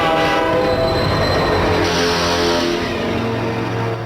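A cartoon express train rolls in, its loud sustained horn blaring over the rumble and clatter of the cars throughout, close and dominant.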